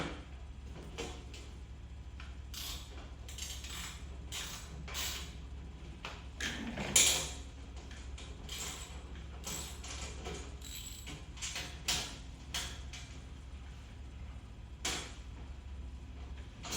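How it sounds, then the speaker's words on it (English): Bolts are tightened during assembly of a Catch Pro Urban Assault series unit, giving a string of sharp, irregular metallic clicks and ticks with one louder clack, close by over a low steady hum. "we can go ahead and tighten these up"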